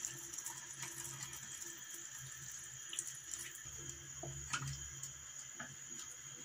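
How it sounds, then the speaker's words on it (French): Hot water being poured over browned eggplants in a tajine for an Algerian dish makes a steady, fairly faint splashing trickle with a few small clinks and drips. No one speaks. "on les couvre d'eau chaude."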